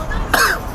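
A person coughs once, a short rough burst that sounds close and fairly loud. It may blend into a throat clear during a conversational outing.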